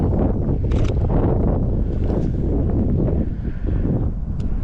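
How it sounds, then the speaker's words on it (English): Steady wind buffets the microphone outdoors during a cold midday photo shoot, a constant low rumble with faint rustling and brief sharper gusts. "the wind doesn't make it easy either, because now it's like super cold"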